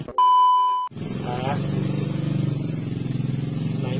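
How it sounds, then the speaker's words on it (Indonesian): A motorcycle engine runs nearby at a steady idle with a rhythmic low throb, following a sharp electronic beep, while someone talks over it. "Buset, motor di sebelah."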